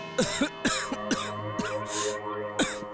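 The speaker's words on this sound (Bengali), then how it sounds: "একটু কাশি হয়ে গেছে আমার" A man in a courtroom coughs several times in quick succession, harsh and close, about five separate bursts with brief gaps between them.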